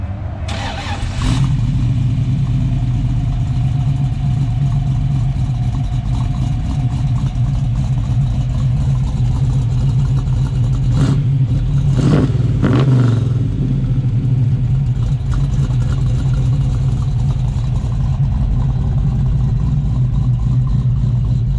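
A 1967 Chevrolet Camaro with a choppy cam cranks and fires, then settles into a loud, lumpy idle with a few sharp throttle blips, close and steady throughout.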